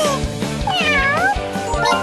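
A cute cat meow from a mobile rhythm game's story scene, a drawn-out sliding call sitting clearly over busy looping background music.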